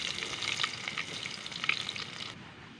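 Chopped garlic fries in hot oil with mustard seeds for a blood stir-fry, bright crackling and popping over a steady sizzle that fades away near the end.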